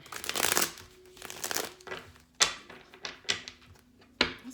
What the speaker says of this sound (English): I'm going to shuffle for Libra.